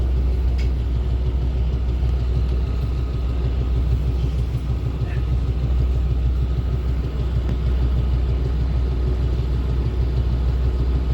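A deep, continuous rumble of a Deutsche Bahn train rolling past in Germany, steady and fairly loud throughout, with faint clanks and squeals over the low roar.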